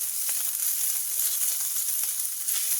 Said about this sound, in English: we're going to go ahead and stir this just for about 30 seconds